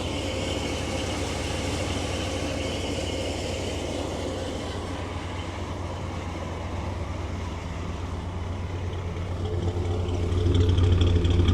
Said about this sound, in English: Before I mount the camera, just let you listen to the engine.